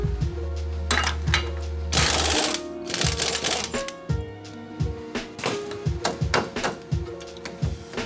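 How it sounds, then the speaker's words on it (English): A wrench or impact tool works on the axle nut of a Ford Explorer during a wheel bearing replacement, giving loud rattling hammering bursts and a run of rapid metallic clanks, close and continuous with no voices. "Next, we got to take this nut off right here"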